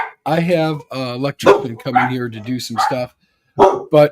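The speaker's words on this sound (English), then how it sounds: "And I apologize for the dogs." Dogs bark in short bursts behind someone talking steadily indoors.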